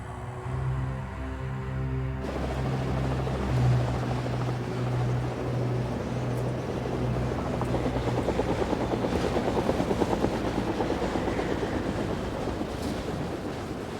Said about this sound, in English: Juju, prepare the helicopter.